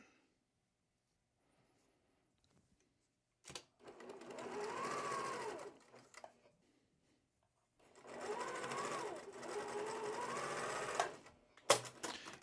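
A sewing machine chain pieces quilt pieces in two sustained runs of stitching, close and steady, with quiet pauses and a few handling clicks between.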